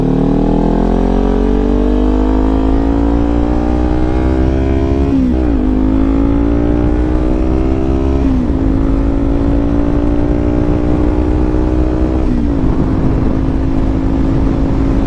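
A 2018 Kawasaki Ninja 400 motorcycle engine drones loud and steady while riding, its pitch climbing through gears with three brief dips at shifts, under constant wind rush.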